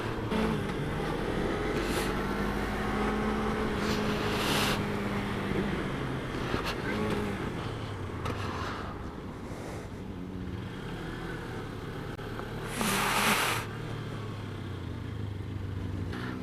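A 2018 Suzuki GSX250R small sport bike on a test ride, its engine droning and shifting pitch under steady wind rush, with a few short bursts of louder noise along the way.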